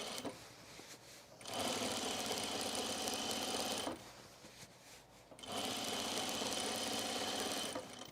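A sewing machine top stitches a seam on a skort, running in two long steady bursts with a pause between them, close and loud with no talk.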